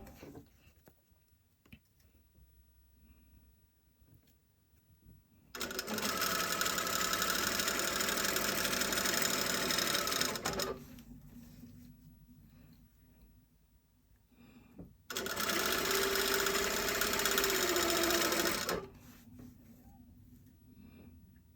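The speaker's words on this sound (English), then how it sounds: "I'm going to pin stitch this on." A sewing machine pin-stitching a seam along fabric, running in two sustained bursts of steady close mechanical whirring separated by quiet pauses, with no talk.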